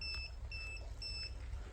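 Cordless battery-powered grass trimmer giving off a repeating electronic beep, three short high double-tone bleeps about half a second apart, heard close over a low steady hum with no talking.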